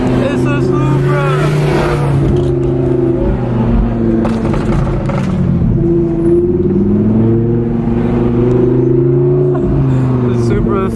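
Toyota Supra engine revving hard while the car slides at a car meet, a loud rising and falling roar with shifting engine tones, crowd voices talking and shouting over it.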